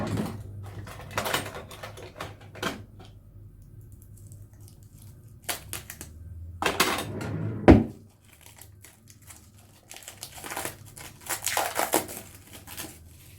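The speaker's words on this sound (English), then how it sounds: "We'll take the plastic off anyway." Plastic wrap is peeled and crinkled off a Creed shaving soap puck, with intermittent close crackling bursts, a few soft handling thumps and quiet pauses between.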